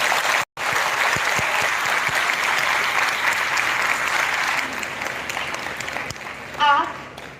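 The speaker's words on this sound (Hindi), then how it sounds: "हम सबकी प्रिय आचार्य प्रोफेसर निवेदिता जी के लिए जोरदार ताली" A college audience at a faculty introduction event gives loud, sustained applause that fills the room. It thins out toward the end, and a brief voice cuts in near the close.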